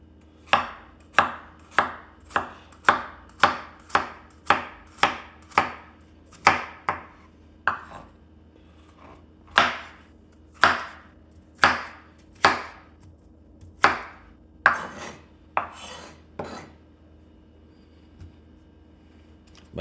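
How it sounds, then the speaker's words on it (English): A knife chops Armenian cucumbers into squares on a cutting board, giving about twenty sharp, close knocks in an uneven rhythm that spaces out and thins toward the end, with no talking. "Now I'm just going to cut them up into squares."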